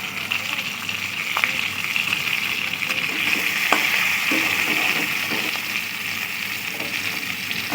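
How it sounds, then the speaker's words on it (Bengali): Fish roe frying in hot oil in a Bengali home kitchen, a steady, close hiss of sizzling with a few faint clicks and pops, heard alone throughout. "মাছের ডিমটাও ভেজে নেবো"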